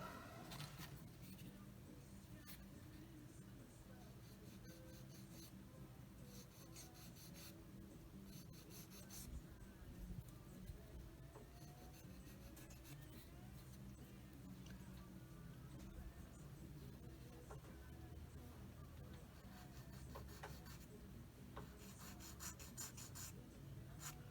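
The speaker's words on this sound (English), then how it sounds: "Let me sand this edge just a little bit." Steady, close rasping of sandpaper worked against the edge of a plastic Tamiya 1/48 Fairey Swordfish Mk II model kit part, a continuous scratchy rub lasting the whole stretch with small shifts in intensity.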